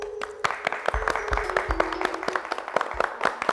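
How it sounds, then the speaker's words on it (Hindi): Studio audience at a live comedy stage show gives a short burst of scattered, uneven clapping, close and moderately loud with some background voices. "तालियां बजा दे यार"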